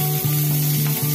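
Chopped onion fries in hot oil with a loud, steady close-up sizzle, along with a low tonal hum throughout.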